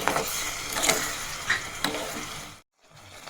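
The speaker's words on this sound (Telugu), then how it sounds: "సో షుగర్ కరిగేంత వరకు మంచిగా కలిపేసుకోవాలి" Sugar and a spoonful of ghee are stirred into sesame rice in a pan, with a low sizzle under several distinct scraping stirs, before the sound cuts out briefly near the end.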